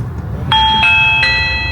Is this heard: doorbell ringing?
yes